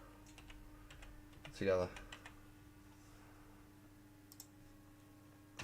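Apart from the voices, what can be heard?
typing on a computer keyboard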